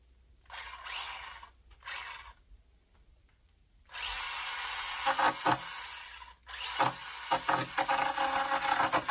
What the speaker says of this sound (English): And I got this little handheld chainsaw.